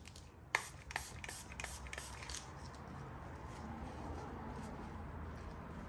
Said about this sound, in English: I'm going to spray this again.